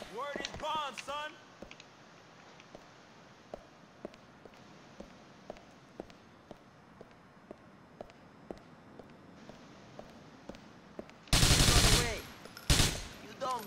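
Gunfire in the video game GTA IV: a long run of quiet, scattered single shots, then two loud, dense bursts of automatic fire near the end, with a brief voice at the opening.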